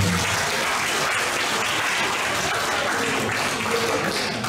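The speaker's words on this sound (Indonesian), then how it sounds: "Oleh karena itu tepuk tangan buat Kajur dan keperawatan." An audience at a nursing graduation ceremony at a hospital in Bontang gives loud, dense and continuous applause, filling the hall without pause.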